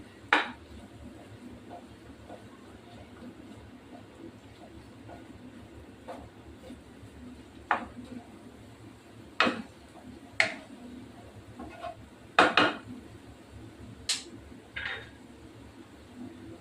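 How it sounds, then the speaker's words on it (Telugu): Pav bhaji masala mixture is stirred in a pan, a spoon scraping and tapping against the metal in scattered, irregular clinks that grow more frequent toward the end over a low steady background. "ఇప్పుడు మొత్తం ఒకసారి కలుపుకుందాం"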